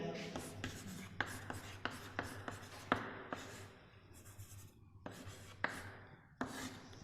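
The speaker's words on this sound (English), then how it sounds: "let me write the title." A lesson title is handwritten, probably in chalk on a classroom board, giving close scratchy strokes with sharp taps in an irregular rhythm. Faint murmuring sits underneath.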